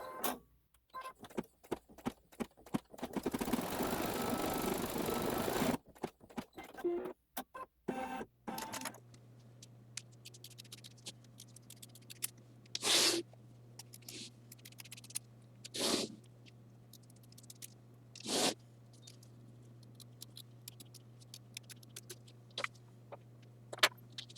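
An embroidery machine stitches the tack-down on a quilt block, heard first as a dense burst of rapid stitching, then a steady low hum broken by scattered clicks and brief louder pulses.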